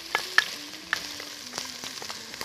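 Minced onion dropped into hot oil already holding cinnamon stick, cardamom and cloves, giving a modest steady frying hiss with a few sharp clicks and pops near the start, close by, no voices.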